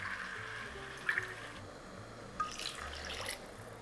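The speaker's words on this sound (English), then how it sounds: "So I'm just going to add 3 cups of water" Water is poured from a measuring cup into a pot of soaked rice for Arabic spiced rice: a steady, close splashing trickle with a couple of louder gushes, heard alone without talk.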